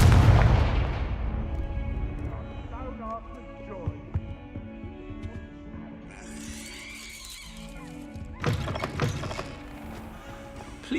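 Confringo fire spell cast in the Hogwarts Legacy video game: a loud booming blast at the start that fades into a rumbling tail, with game music and ambience continuing underneath and a second burst of crackling noise near the end.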